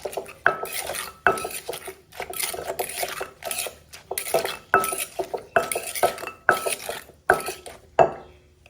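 Repeated rhythmic pounding and clattering in a mortar, mixing sugar for a Thai papaya salad with chicken feet and pork sausage, about a dozen knocks with scraping between them, close and fairly loud, no talking.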